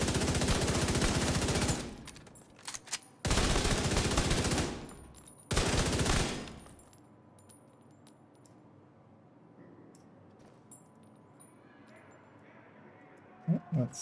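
Video game gunfire in three loud sustained bursts of rapid automatic shots, followed by quieter clicking and clinking sounds and a couple of short sharp hits at the end.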